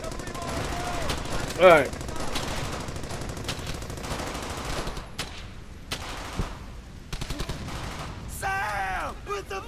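Bursts of machine-gun and rifle fire in the World War II video game Brothers In Arms: Hell's Highway, mostly distant rattling volleys with a few louder shots, under someone briefly talking.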